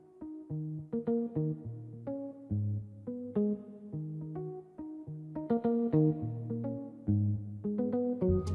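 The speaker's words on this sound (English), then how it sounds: "Dyna Electric Guitar 1 was what I was using" A layered muted electric guitar patch, the Triton Dyna Electric Guitar 1 sound, plays a steady afrobeat line of short plucked notes and chords, fairly quiet and close, with no talking.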